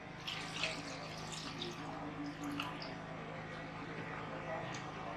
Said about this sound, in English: I'm going to be adding a little water